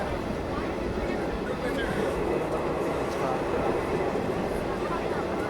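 The Coimbatore–Silchar train rolls past with its general coaches, making a continuous loud rumble and rushing clatter that holds steady throughout.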